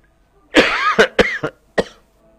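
A short run of coughs up close: one long rough cough followed by three quick sharper ones, loud and clear against quiet.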